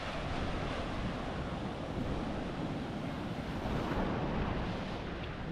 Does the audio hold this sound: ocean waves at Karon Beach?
yes